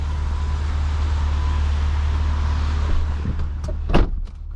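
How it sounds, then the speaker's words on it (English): Porsche Macan S power trunk closing on its own: a steady low hum runs throughout, then a short motorized whir rises and ends in a soft latch thump near the end. No one speaks. "The trunk closes by itself right there."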